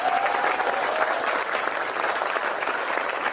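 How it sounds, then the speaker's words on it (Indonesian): Applause from a seated audience at a humorous talk, a continuous wash of many hands clapping that holds loud and steady, with a brief voice heard early on. "Untung tepuk tangan."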